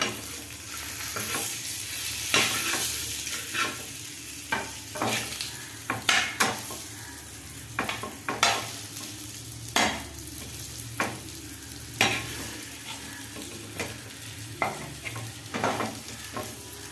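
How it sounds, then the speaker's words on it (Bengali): Pointed gourd slices fry in a pan, giving a steady sizzle broken by repeated sharp scrapes and clinks as the pieces are stirred and flipped. The sound is close and nobody speaks. "পটলের গাগুলো দেখছেন ফ্রাই হয়ে গেছে, এবার উল্টে দিচ্ছি একবার।"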